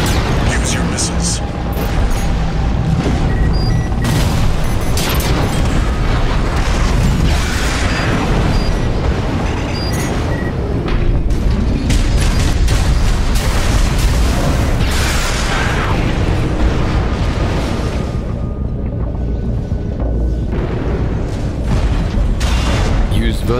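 Missile launches and explosions from mech combat in Armored Core VI, with dense booming blasts and mechanical clatter filling a loud, continuous battle soundscape, a voice speaking over parts of it.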